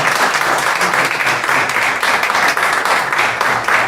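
Loud, close applause from the audience at a Korean press conference for a mass united church worship and prayer rally, continuous dense clapping throughout with no talk.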